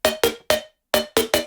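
Simple synth chord stabs in an EDM drop, following the rhythm of a pluck: six short bright hits in an uneven pattern with a gap in the middle, each decaying quickly, alone and moderately loud.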